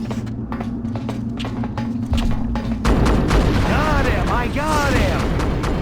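Gunfire rings out in the Destroy All Humans! Path of the Furon video game: bursts of shots and booms over game ambience, turning into dense, layered firing with whistling sci-fi weapon tones, while a voice briefly speaks.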